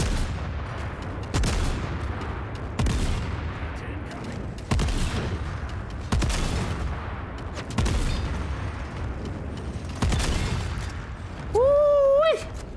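Gunfire from the video game The Forever Winter comes in heavy, booming bursts roughly every second and a half, followed by a brief warbling whistle near the end.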